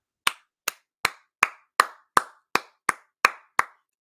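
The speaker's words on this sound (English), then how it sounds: "round of applause, because that is a good way to argue all this" About ten crisp claps from one pair of hands, slow and evenly spaced, close and dry with silence between each.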